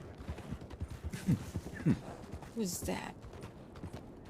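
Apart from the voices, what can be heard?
angry horse in video game WildRP (Red Dead roleplay)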